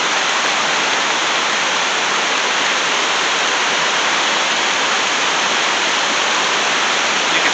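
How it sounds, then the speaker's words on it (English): Slight river rapids just upstream of an intake head pond give a continuous, loud, even rush of white-noise water flow with no pauses and no voices. "There's a slight rapids there."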